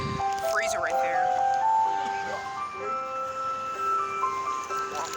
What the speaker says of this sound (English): I knew the ice cream truck was gonna come.